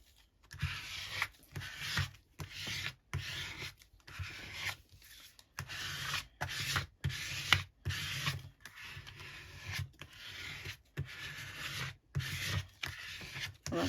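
A small spreader is dragged across craft card in repeated short rubbing, scraping strokes, quiet and close, with brief pauses between passes.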